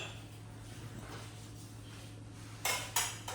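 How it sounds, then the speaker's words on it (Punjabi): Two sharp metallic clanks of brass dishes and utensils knocking together near the end, over a steady low hum and faint background noise. "ਇਹਨਾਂ ਸਾਰੇ ਭਾਂਡੇ ਬਾਹਰ ਕੱਢ ਲਈਏ"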